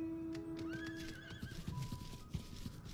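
A horse in Final Fantasy XIV lets out a clear, rising and wavering neigh, followed by a few clip-clopping hoofbeats, heard alone against faint game ambience.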